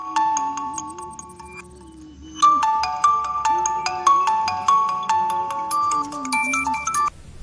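A mobile phone ringtone plays a repeating melodic tune of bright electronic tones, starting softer and then growing louder and fuller, with a low hum beneath it.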